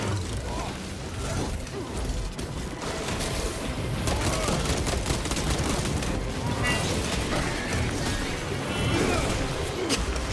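Gunfire and explosions in the Space Marine 2 video game make a dense, continuous barrage of shots, crashes and booms layered with mechanical clatter, loud and busy throughout.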